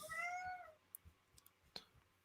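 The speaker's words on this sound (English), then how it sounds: "Is that the kitty?" A house cat meows near a door, wanting to be let out: one drawn-out, rising-and-falling meow up front, followed by a few faint clicks and soft knocks in a quiet room.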